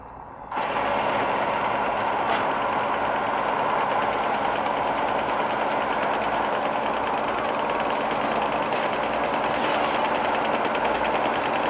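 A truck engine in the mobile driving game Truckers Of Europe 3, driven a bit fast so the vehicle vibrates, gives a steady, loud, unbroken drone that holds from the first second to the end with no talking.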